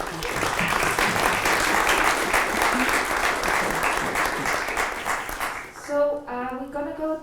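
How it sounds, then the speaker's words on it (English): An audience at a fission applications conference talk gives steady, full applause that carries for several seconds before fading as a voice begins speaking over the tail end. "Big applause for"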